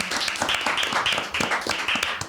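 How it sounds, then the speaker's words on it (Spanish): Applause greets the opening of a podcast episode, a short, moderately loud spell of clapping with distinct hand strikes and a voice faintly mixed in. "Un aplauso, por favor."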